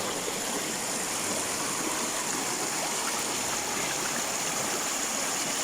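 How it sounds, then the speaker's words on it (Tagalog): A mountain stream rushes and gurgles steadily and close by, with no voices. "Sapa din dito."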